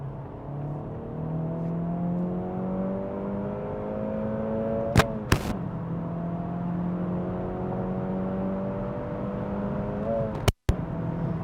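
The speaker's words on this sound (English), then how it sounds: "The only thing that I can report is the crazy amount of road noise that you do get." Steady broadband road noise and engine drone inside an Acura Integra Type S cruising on a highway, with rising engine harmonics during a pull and a couple of brief sharp clicks.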